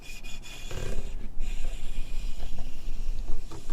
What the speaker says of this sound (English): you hear a lot of scratchy sound. It comes from contact between strings and your nails